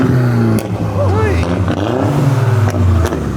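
A car revs and accelerates past at a car meet with exhaust popping, loud and close, while people talk over it.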